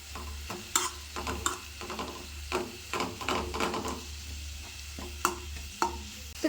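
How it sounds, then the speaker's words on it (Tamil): Tomato and ginger-garlic paste sautéing in a pan for a meal maker gravy: soft sizzling under intermittent scraping and stirring strokes of a spoon, fairly quiet and close. "இந்த தக்காளியும் இந்த இஞ்சி பூண்டு பேஸ்ட்டும் சேர்ந்து நல்லா வதங்கினுச்சுன்னா நல்லா பச்சை வாசம் போகிற அளவுக்கு வதங்கி வரணும்"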